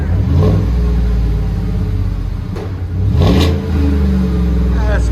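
A 2017 GMC Sierra Z/71 pickup with a 5.3L V8 and a Proven Ground cat-back exhaust revving loudly up and down, a deep rumbling drone rising and falling, while people talk over it.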